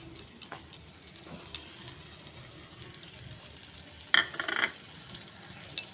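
Tarka masala being stirred into a sizzling pan: a low, soft frying hiss with scattered light clinks and a brief louder scrape of the spoon against the pan near the end, close and otherwise quiet.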